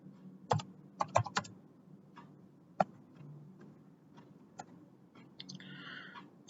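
Computer keyboard typing during an HTML and CSS coding lesson: quiet scattered key clicks with a few sharper taps, irregular rhythm, close and faint, with no talking.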